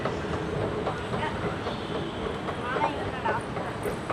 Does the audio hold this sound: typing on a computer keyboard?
no